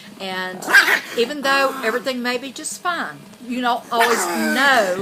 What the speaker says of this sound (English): That's my dog you hear in the background